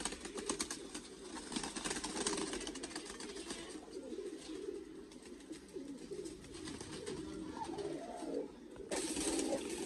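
Pigeons in a breeder's loft coo in low, steady murmurs that run through the whole stretch, with a faint mechanical rattle underneath and a brief drop near the end.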